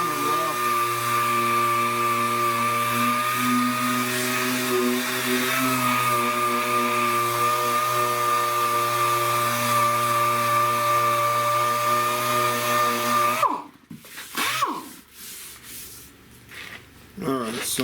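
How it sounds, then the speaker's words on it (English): A power sander with 36-grit paper grinds a rusted car quarter panel, a loud steady whine and rasp holding for most of the stretch before cutting off into a few rough scrapes and handling noises. "Alright, so I just want to sand that down."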